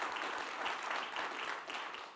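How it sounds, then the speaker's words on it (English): A crowd at a Philly Tech Week community gathering gives a brief round of applause, a soft, distant wash of many hands clapping that fades at the end. "We do a round of applause for that"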